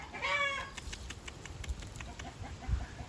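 A young rooster among a flock of chickens in hot weather gives a short burst of clucking calls at the start, then quieter scattered clucks over faint background noise.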